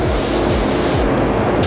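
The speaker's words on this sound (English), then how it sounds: "I'm gonna spray this one kind of wet." A steady, close hiss of a Sagola Mini Xtreme spray gun spraying a wet coat of paint, unbroken for the whole short stretch.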